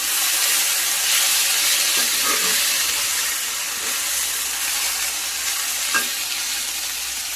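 Potatoes fry in a pan with a steady, close sizzle and hiss while occasional stirring scrapes through, cooked over medium gas with salt and turmeric.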